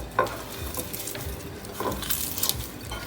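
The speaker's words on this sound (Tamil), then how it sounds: "இப்போ இதை நல்லா மிக்ஸ் பண்ணிக்கோங்க." Kozhukattai dough being mixed with mustard seeds and urad dal, giving soft scraping and stirring sounds with a light sizzle and an occasional utensil clink close by, with no talking.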